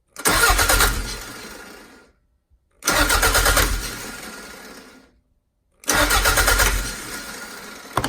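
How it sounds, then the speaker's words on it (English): A starter cranks the 3S-GTE engine of a Toyota MR2 SW20 in three separate bursts of about two seconds each. The whirring churn is loud and close, and each burst fades out before a brief silence. "connect from your 12 volt to the starter, and you just click it, the starter should crank"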